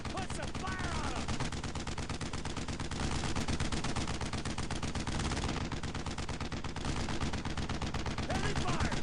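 Dense, continuous gunfire from the World War II shooter Brothers in Arms: Road to Hill 30, rapid automatic bursts and rifle shots overlapping without pause, loud and close throughout.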